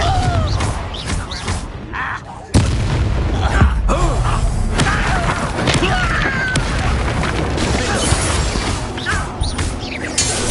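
A Confringo explosive spell bursts in a Harry Potter video game: a sudden loud boom at about two and a half seconds, then a sustained dense rumble of crashing and shattering debris that carries on without a break for several seconds.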